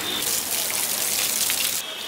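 Water pours onto garden plants in a steady, close hiss and splash that runs continuously, then drops to a lighter spatter near the end.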